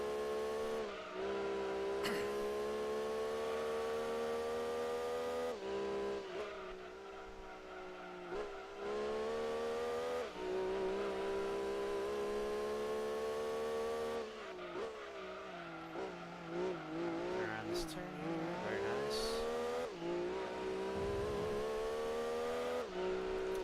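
A Renault Clio driven in the racing game Gran Turismo 2, engine loudly droning and rising in pitch through repeated gear changes, with brief tire squeals, steady and close with no talk.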